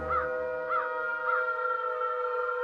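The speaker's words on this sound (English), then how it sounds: "a crow was at their window" A crow caws three times at a window, evenly spaced harsh calls over a steady background hum.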